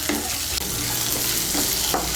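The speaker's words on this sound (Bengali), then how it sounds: "মিশিয়ে নিয়ে আদা বাটাটাকে একটু ভেজে নেব।" Ginger paste fries with sweet potato in a pan for dudh shukto. A loud, close, continuous sizzle runs throughout, with a few brief scraping strokes from stirring.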